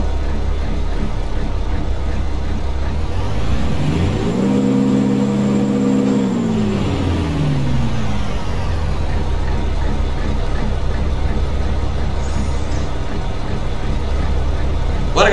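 A heavy truck engine in American Truck Simulator cranks and catches, then settles into a loud, steady diesel idle that rises in pitch briefly before holding a constant rumble.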